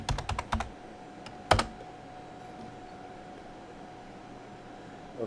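A computer keyboard being typed on at a Linux terminal, a quick burst of close key clacks followed by a couple more keystrokes, then a steady low hum with no further typing and no talking.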